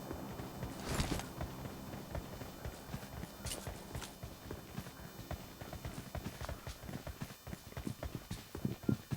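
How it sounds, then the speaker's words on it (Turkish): Footsteps in the PUBG Lite battle royale shooter sound as a fast, continuous run of soft thuds under dense game noise, fairly faint, with occasional sharper impacts. "Duydum ayak sesini."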